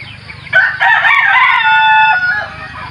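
A fighting rooster crows loudly and close by, one long drawn-out call that rises and trails off, with no speech over it.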